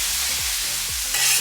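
Tomato sizzles in a paella pan as a steady hiss with a low repeating scrape under it, and the sizzle swells brighter near the end. No voices.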